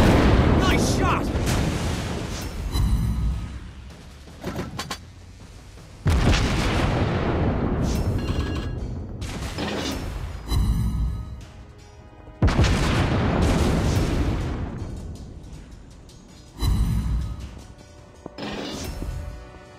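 Heavy warship guns in a naval video game firing in repeated loud booming salvos, each blast followed by a long rumbling decay, with several separate volleys spaced a few seconds apart.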